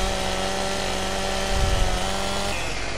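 A chainsaw in Farming Simulator 17 drones steadily at full throttle with a buzzing whine throughout, rising slightly as it bites into wood near the middle before settling back to the same constant rasp.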